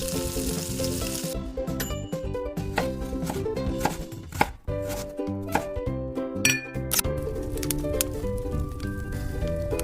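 Elephant foot yam is cut into large cubes with a knife. Repeated crisp chops sound close up over continuous background music.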